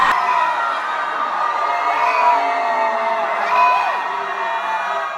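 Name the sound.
students screaming together in library at midnight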